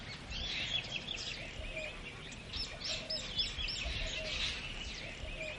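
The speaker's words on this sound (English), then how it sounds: "All day, tree pies, plum-headed parakeets and miners flit in and out." Tree pies, plum-headed parakeets and mynas call among flowering trees, sending out a busy scatter of bright chirps and squawks at moderate distance over a soft outdoor hush.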